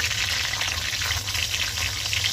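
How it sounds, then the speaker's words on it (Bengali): Potato pieces seasoned with a little salt and turmeric fry in a pan with a steady, close, soft sizzle and crackle that continues evenly throughout, with no talking. "এবার আলুটাকে আমি ভালো করে ভেজে নেব"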